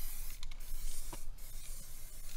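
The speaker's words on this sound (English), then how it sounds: "Spray painting." A spray paint can hisses in a steady, continuous stream, close and fairly loud, with no one speaking.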